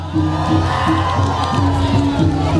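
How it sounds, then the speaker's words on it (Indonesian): A crowd cheers loudly and steadily at the 2023 Isen Mulang cultural festival carnival in Central Kalimantan, greeting the Barito Utara regency float, with sustained tonal music sounding over the noise. "berikan tepuk tangan yang meriah untuk Kabupaten Barito Utara"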